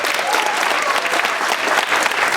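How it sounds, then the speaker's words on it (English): Fans at a Eurovision meet and greet in Stockholm give loud, sustained applause for a singer from Iceland, a dense continuous roar of clapping close by. "Big applause."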